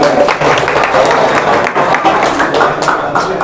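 An audience gives loud, continuous applause for a correct answer at a live quiz show held in a study hall. The dense clapping fills the whole stretch, with voices mixed in.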